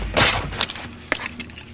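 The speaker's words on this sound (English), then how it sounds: "A neighbor, infected, smashes through the window." Glass window smashing in a zombie film, a sharp loud shatter at the start followed by scattered tinkling shards and small debris impacts fading out.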